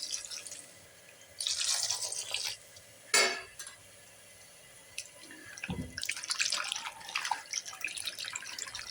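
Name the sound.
washing grapes in water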